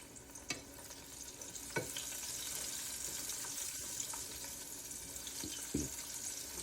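A pork chop fries in extra virgin olive oil, giving a soft, steady sizzle with a few scattered clinks and taps, quiet and close by.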